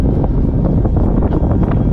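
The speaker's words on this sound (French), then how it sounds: "clairement le vent de dos là" Strong wind roars and buffets against the microphone during a solo paraglider flight, loud and close the whole time, with no voices.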